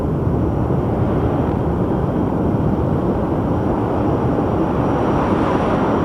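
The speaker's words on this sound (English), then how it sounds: "Just imagine the amount of thrust those engines are producing." Jet airplane engines at Sky Harbor Airport produce a loud, continuous broadband roar that holds steady and unbroken, with no voices present.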